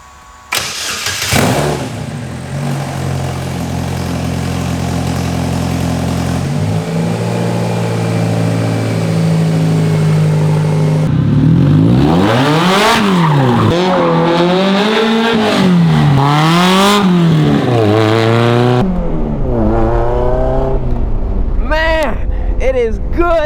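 An Ariel Atom car engine starts with a loud bark, idles steadily, then revs repeatedly in rising and falling sweeps while driving, close and dominant, dropping to a lower drone near the end.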